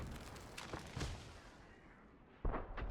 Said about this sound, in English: Up the ass with an artillery.